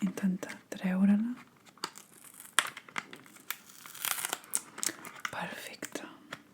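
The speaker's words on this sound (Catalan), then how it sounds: "No, té una cinta adhesiva. Vaig a intentar treure-la." Adhesive tape peeled off a package, heard as close, soft crinkling and tearing bursts at intervals, with a whispering voice in between.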